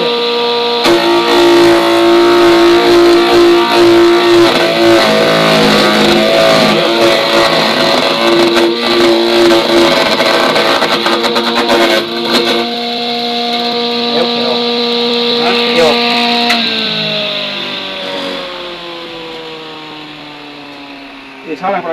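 An engine-driven shredder grinds banana trunk, a loud, continuous mechanical drone with rising and falling revs and gritty bursts. Voices talk over the machine.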